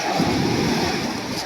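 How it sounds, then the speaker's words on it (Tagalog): Large ocean waves churn and wash steadily at sea off Bataan around a small fishing boat, a broad continuous roar of surf mixed with wind buffeting the microphone, with no talking. "Alaki ng alon."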